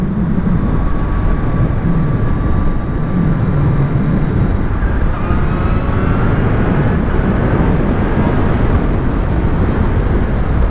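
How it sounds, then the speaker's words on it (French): A loud, continuous supercharged Kawasaki Z H2 motorcycle engine drone with a steady low roar and a faint rising whine, held at an even level throughout with no talking. "C'est un bruit de moteur en plus, mais c'est pas envahissant quoi"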